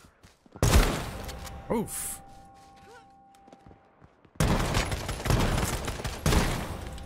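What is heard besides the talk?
gunshots from a video game (Fortnite/Surviv.io)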